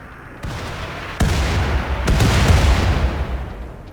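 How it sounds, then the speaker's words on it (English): Mortar shells land and explode in RimWorld, three heavy booms at irregular gaps over a rumbling, rising bed of blast noise, loud and without speech. "More shells fall, but leave them unscathed"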